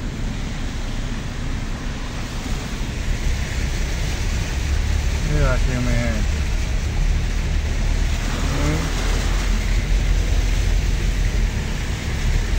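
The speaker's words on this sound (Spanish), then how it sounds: "Cuando está lloviendo, esto es un caos." Heavy rain pours steadily on a street, a dense continuous roar throughout, while someone speaks over it partway through.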